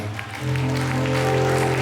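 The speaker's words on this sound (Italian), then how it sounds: "chiederei un bellissimo applauso" An audience breaks into applause, the clapping swelling quickly and then holding steady and dense.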